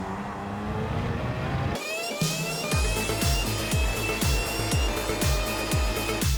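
A BMW McLaren race car at Le Mans in Gran Turismo 7 lifts off, then goes to full throttle, the engine climbing through repeated upshifts in a steady sawtooth pattern, loud and close.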